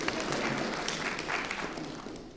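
An audience at a military readiness gathering at Walter Reed applauds briefly. The clapping is a dense, moderate wash that fades slightly toward the end, with a faint hint of voices underneath.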